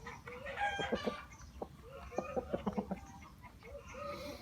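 A rooster kept with four hens, the hens clucking in short bursts and quick clustered calls at close range, with no talk.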